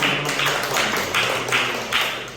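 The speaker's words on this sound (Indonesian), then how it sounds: "beri aplaus ke kelompok tengah" Applause from a group of students in a classroom, several seconds of steady, dense clapping that swells in waves and fades slightly at the end.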